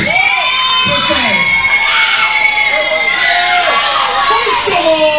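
A loud wrestling crowd keeps up shouting, whooping and cheering over a speaker at a live CWF-Eternal show, with the noise dense and constant throughout.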